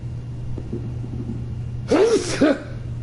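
A single sharp sneeze from the video game Dark Souls Remastered bursts out after a low background rumble, followed by a brief vocal sound, with voices faintly underneath.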